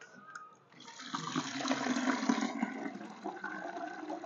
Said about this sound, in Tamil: இப்போ தண்ணி பிடிச்சி ஊற்றிட்டு வந்துடுறேன்